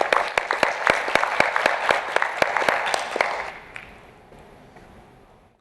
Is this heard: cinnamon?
no